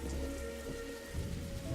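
Steady rain pattering on a rooftop in the video game The Darkside Detective, a constant close wash of drops with a low rumble underneath and no voices.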